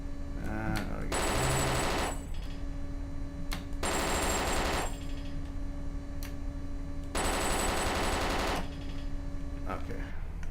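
Bursts of automatic gunfire from DayZ Overpoch, three long sustained volleys of rapid shots separated by short gaps, loud and close, with a steady tonal game hum running underneath.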